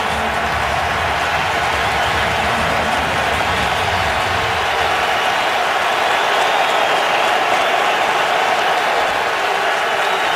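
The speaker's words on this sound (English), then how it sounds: "and here comes the crowd" Stadium crowd roaring at an NFL football game between the Falcons and Giants, a loud continuous wash of distant cheering that swells and holds steady throughout without clear speech.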